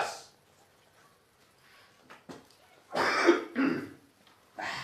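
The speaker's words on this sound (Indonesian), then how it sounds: "Batuk berdahak." A few harsh, wet coughs and throat-clearing bursts in a quiet room, loud and close, with pauses between them.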